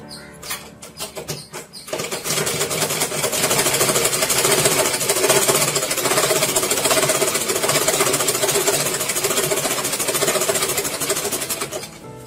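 Sewing machine stitches a seam in one long run: after a few clicks, a loud, steady, fast mechanical whir carries on close by for about ten seconds and then slows to a stop.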